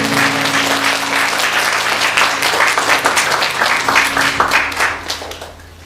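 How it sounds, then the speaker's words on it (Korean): Congregation applause during a church baptism and confirmation service, a dense sustained burst of many hands clapping that fills the room and tapers off toward the end, with no talking over it. "박수로 격려해 주시면 감사합니다."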